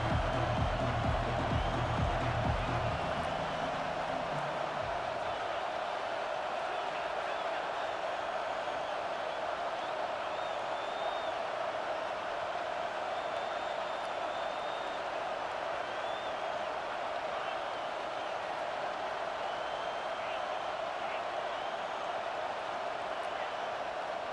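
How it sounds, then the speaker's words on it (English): Stadium crowd in EA Sports College Football 25, a continuous loud roar cheering on the defense that holds steady throughout, with a low rumble at the start. "Listen to this crowd just shaking the girders of this place, trying to help their defense."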